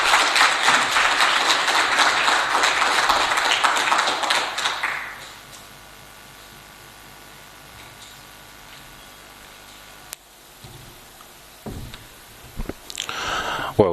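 An audience applauds after a panel presentation, a dense, even wash of many hands clapping for about five seconds that then fades into quiet room tone, with a few faint knocks and bumps later.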